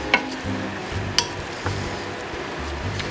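Swiss chard with fresh lemon juice being stirred in a pan over a low sizzle, with a few crisp utensil clicks against the pan standing out near the start.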